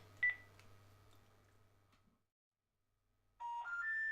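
A telephone number being dialed: a short burst of dialing tones at the start over a steady low hum, then near silence, then clear electronic tones at the end.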